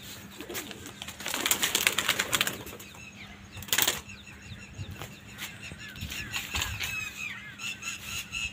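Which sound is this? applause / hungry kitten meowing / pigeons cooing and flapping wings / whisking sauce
pigeons cooing and flapping wings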